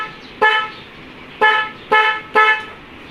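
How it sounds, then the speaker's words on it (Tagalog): Four loud, close motorcycle dual-horn blasts: one short toot, a pause, then three more in quick succession, each bright and brassy with a slight trailing fade. "at ipindot natin yung busina."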